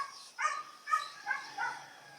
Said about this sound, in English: Dogs are a little anxious right now, want to play, but I'm currently busy.